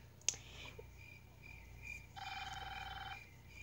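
Telephone ringing in a Five Nights at Freddy's mobile game, a faint electronic ring tone sounding twice over quiet low background hum, preceded by a brief click.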